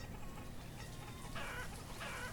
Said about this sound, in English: we got 1 chicken here gone rogue